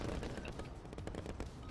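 Video game gunfire cracks in quick, rapid bursts, dense and continuous for a short stretch, heard close and fairly loud with no talk over it.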